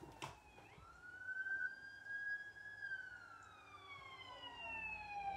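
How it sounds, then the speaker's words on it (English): An ambulance siren wails nearby, its tone sweeping slowly up and down against low background rumble. "It's an ambulance."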